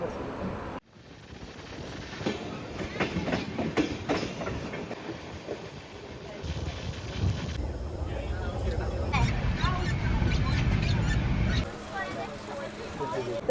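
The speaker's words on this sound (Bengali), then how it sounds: "এখানে 2 মিনিটের জন্য ট্রেন হল্ট দেবে, এরপরেই দাঁড়াবে ধানবাদ," A passenger train at Asansol Junction, a steady loud rumble with rhythmic clickety-clack and wind buffeting the microphone, with a voice talking over it.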